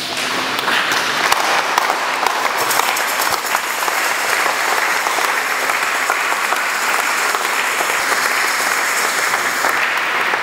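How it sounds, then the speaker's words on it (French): A congregation stands and applauds at a thanksgiving mass in Matadi, loud continuous clapping from a large crowd filling the whole stretch without pause. "nous puissions nous lever et applaudir"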